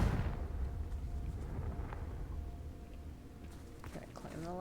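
A Confringo spell from the video game Hogwarts Legacy lands as a heavy explosive boom at the start, then rumbles and fades beneath a game character's voice.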